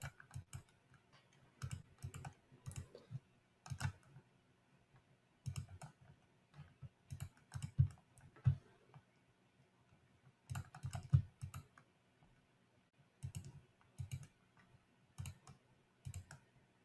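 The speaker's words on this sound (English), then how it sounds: "You can hear the desperate clicking too." Rapid, frantic computer mouse and keyboard clicking during an online chess game, with quick bursts of sharp clicks separated by short pauses and repeated throughout. The clicks are fairly close but quiet, with no talking.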